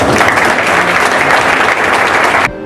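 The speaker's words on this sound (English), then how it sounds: "please give them one round of applause" A loud, dense round of applause from a large crowd at a luncheon, sustained throughout before cutting off sharply at the end.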